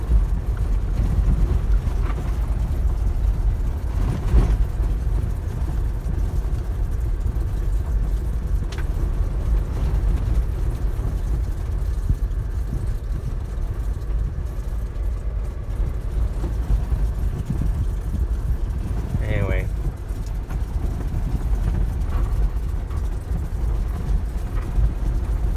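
A Jeep Wrangler JL rolls downhill in manual gear through Titus Canyon in Death Valley, giving a steady low engine rumble with tire and gravel noise and occasional faint knocks over a long stretch.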